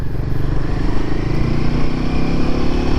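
A Royal Enfield Himalayan 450 motorcycle rides steadily, its engine humming in an even, close drone over continuous wind and road noise.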